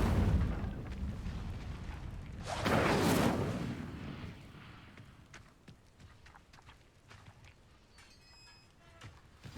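Incendio fire spell cast in Hogwarts Legacy, a sudden burst of roaring flame that swells for about a second and a half, then fades into quiet ambience with faint ticks.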